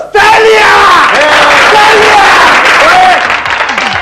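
A crowd at an outdoor gathering in an Urdu comedy drama breaks into loud, sustained applause mixed with shouts and cheers. It carries steadily for about four seconds with voices calling out over the clapping.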